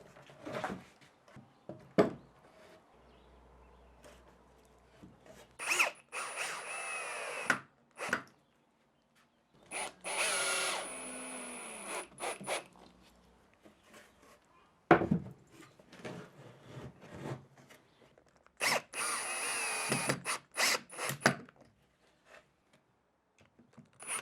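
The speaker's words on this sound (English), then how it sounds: "With 4 panels prepped, I can simply screw them together to create the planter enclosure." A power drill drives screws to join wooden planter panels, giving several short whirring bursts separated by knocks and handling of the wood, with no talking.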